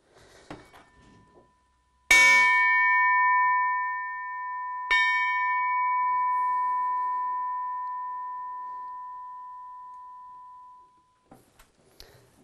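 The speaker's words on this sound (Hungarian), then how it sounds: "Ez egy 9 kilogrammos kis harang," A small 9 kg bell with a thin, baroque-shaped profile is struck twice, each strike ringing out with a bright, sustained tone that slowly fades, followed by a few faint taps.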